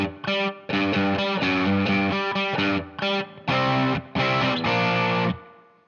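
Distorted electric guitar plays the main riff of a song, a driving, rhythmic figure of short repeated notes broken by brief gaps, loud and close with no voices.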